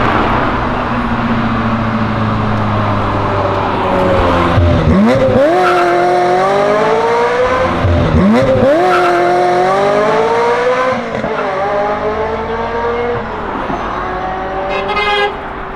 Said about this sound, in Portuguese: com uma Ferrari reduzindo, depois acelerando tudo e ainda saindo um pouquinho de lado